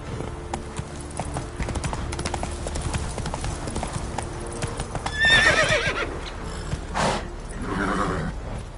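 Horse hooves clip-clop at a steady pace in the Witcher 3 video game, close and clear, and the horse gives a brief whinny partway through. No talking is heard.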